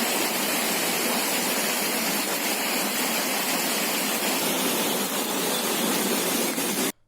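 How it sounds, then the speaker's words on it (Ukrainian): Clear mountain stream in a street recently buried by a mudslide of stones and debris, rushing as a dense, loud, continuous wash of water noise up close, cutting off abruptly at the end. "Зараз тут знову чистий струмок."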